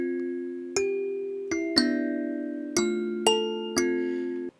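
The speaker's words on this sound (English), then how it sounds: "So I'm going to drop a kalimba sample." Kalimba sample plucking six bright metallic tines in a slow, uneven melody, each note ringing and decaying clearly, alone and fairly quiet.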